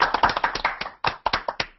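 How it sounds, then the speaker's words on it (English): Scattered virtual clapping from a few participants over unmuted microphones after an online lecture, sharp uneven claps in a quick ragged burst, with a short gap before a final few. "We have a custom of giving the speaker a warm virtual clap."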